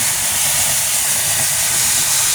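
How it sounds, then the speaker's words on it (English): A floor cleaner with a vacuum and spinning brush lets out its water as a loud, steady, close hiss that fills the whole stretch without a break. "And then this one here releases the water. You'll see it come out in a second."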